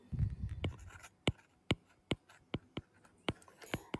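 A pen writes by hand on paper in a string of sharp, distinct strokes and taps, about a dozen close-up marks in an uneven rhythm, with a brief murmur of a voice at the start.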